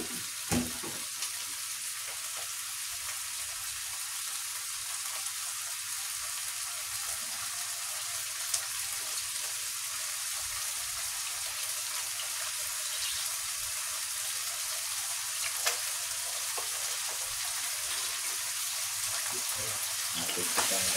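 Fresh canola oil fries with a constant, even sizzle and occasional faint clicks, close and unbroken for a long stretch without talk.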